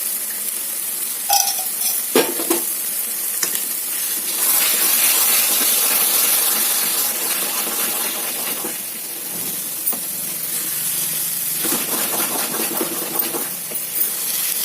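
A spoon scrapes and stirs a bottle gourd ladoo mixture with ghee in a hot pan, giving a close, continuous hissing sizzle with intermittent scrapes and knocks against the pan.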